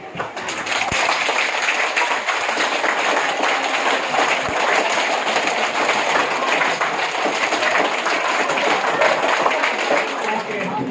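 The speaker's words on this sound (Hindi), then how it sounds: "अच्छा, ऊपर ताली बजेगी।" Schoolchildren in a classroom clap with hands raised, forming a dense, continuous wash of many small claps at steady volume, with voices mixed in.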